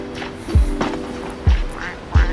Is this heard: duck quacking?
yes